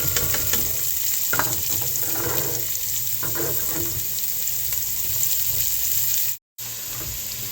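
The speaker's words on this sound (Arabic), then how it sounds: "أقلب البصل وحطيت هنا ثوم، أقلبهم لين كده يدبلوا" Onions fry in hot oil in a pan that already holds browned potatoes, with a steady, close sizzle and intermittent stirring scrapes. The sound briefly cuts out near the end.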